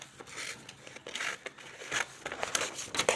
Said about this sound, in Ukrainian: І ножиці отак якось порізали, але ну, не дуже.